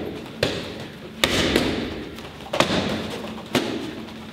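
Close-range kickboxing punches smack into handheld pads with real power: four sharp, loud impacts spread unevenly over a few seconds, each a crisp slap with a brief dull thud, with quiet gaps between.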